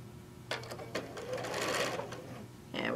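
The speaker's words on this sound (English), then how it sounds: "And we're just going to stitch these down." A sewing machine stitches two long light blue rectangles onto a quilt block, giving a close, steady run of needle strokes that stops and restarts briefly, with no talking.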